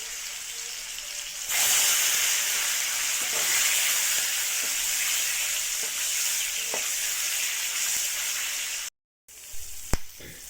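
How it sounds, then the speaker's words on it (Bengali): An egg frying in oil in a wok, seasoned with salt and turmeric, gives a steady loud sizzle and crackle throughout, broken by a brief silent gap near the end before the sizzling resumes. "কড়াইতে তেল দিয়ে দিয়েছি, আর নুন একটু হলুদ দিয়ে দিলাম যাতে না ছেটায় ডিমটা"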